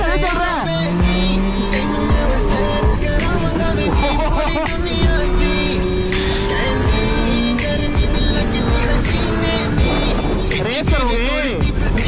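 Superbikes and race vehicles roar past in a continuous loud rush of engine noise with rising and falling whines, tire squeal and a people talking over the racket throughout.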